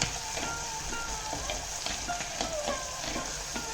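Vegetables and green chilies sautéing in a pan for pulissery, a steady close sizzle with scattered crackles and the occasional scrape of stirring, no voices.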